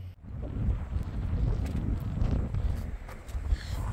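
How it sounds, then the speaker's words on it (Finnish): Outdoor wind at about 6 m/s at a wind generator site, a steady low buffeting rumble pressing on the microphone for the whole stretch, with brief louder gusts and no voices. "Nyt tuulee semmoista 6 metriä sekunnissa, eli suhteellisen hyvin."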